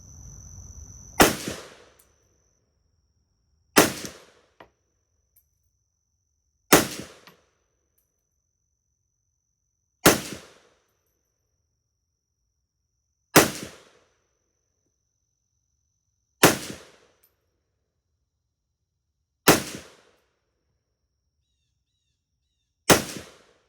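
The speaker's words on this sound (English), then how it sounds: "Rounds downrange for the Chinese Sks today." Eight sharp, loud rifle shots from a 1967 Chinese SKS ring out one by one at a range, spaced roughly three seconds apart, each with a brief decaying echo and near silence between.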